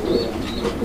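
A pair of lotan pigeons coo softly and close by in a brief, low murmuring call.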